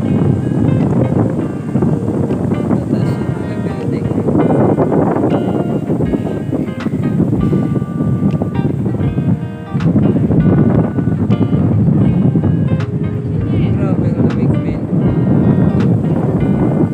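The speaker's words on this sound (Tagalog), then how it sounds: "Masyadong mahangin." Strong, cold wind blows at an open waterside spot, buffeting the microphone in a loud, continuous roar that swells and dips throughout.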